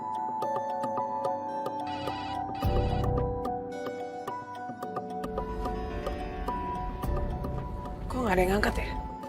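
A phone rings on an outgoing call in an Indonesian drama scene, a repeating ringback tone under background music and sound effects.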